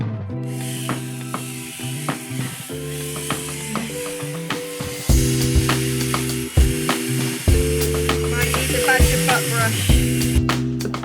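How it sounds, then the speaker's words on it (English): Bissell Spot Clean Pet Pro carpet cleaner running steadily up close during a BMW E46 interior cleaning, its motor hum overlaid with rhythmic scrubbing and sucking bursts. "Bissell Spot Clean Pet Pro."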